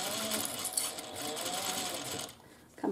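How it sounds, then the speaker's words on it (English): A sewing machine stitches a seam on a fabric wristlet bag, its fast, even motor whir running close and steady, then pausing briefly near the end before starting again. "If you want, you can backstitch over that little area just to kind of reinforce it."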